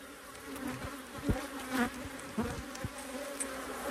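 Honeybees feeding on a hive frame, a close, steady buzzing drone with a few brief louder passes and soft knocks mixed in.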